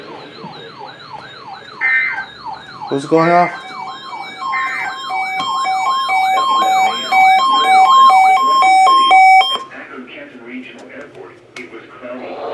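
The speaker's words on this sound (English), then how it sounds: "This ends the test of the new weather radio warning alarm." NOAA weather radio warning alarm tone during a required weekly test, a loud wavering siren-like warble followed by a sustained steady two-tone alert, with a voice speaking briefly over it before it cuts off.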